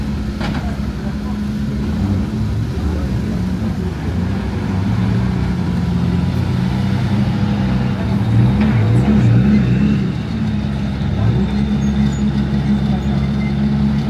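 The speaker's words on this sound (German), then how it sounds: "Da kommt noch ein Media-Auto im Schlepptau." Loud engine rumble of Dakar Rally 2024 vehicles and a media car arriving close by, a continuous drone with shifting revving tones and voices talking over it.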